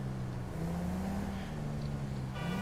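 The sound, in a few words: Suburban with dual twin exhaust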